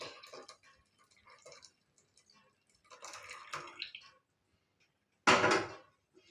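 Milk is poured into a pot for a garlic milk drink. Scattered light clinks and splashes lead to one short, louder rushing pour near the end, close by and with no talk.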